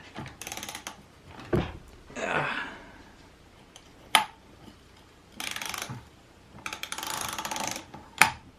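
A nut on a Tri Clone string trimmer gets tightened up close with a hand tool, heard as scattered bursts of ratcheting and metallic scraping mixed with a few sharp clicks and quiet gaps.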